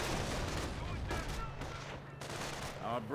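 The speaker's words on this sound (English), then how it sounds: "incendiary mortar landed right there" An incendiary mortar shell lands in the Company of Heroes battlefield, sending out a dense burst of blast and crackling fire. It sits inside a steady din of gunfire and explosions, with a commentator's voice running over the top.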